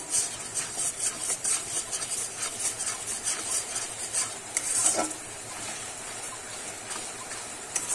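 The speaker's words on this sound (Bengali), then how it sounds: "এবারে ভালো করে কিন্তু আমি কষাতে থাকবো।" Masala is stirred and sautéed in a pan for raw banana kofta curry over high gas flame, with a steady soft sizzle under rhythmic scraping strokes of a spoon against the pan.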